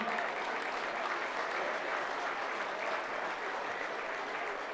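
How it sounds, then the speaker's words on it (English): A crowd at a 2014 Group 11 rugby league grand final applauds in a steady, continuous wash of clapping heard from a distance, even in level throughout. "Big round of applause, ladies and gentlemen."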